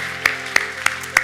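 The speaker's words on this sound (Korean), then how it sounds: "박수로 한번 격려해 주시면 감사하겠습니다." A church congregation claps together in a steady, even rhythm, four sharp claps about a third of a second apart over a soft background hum.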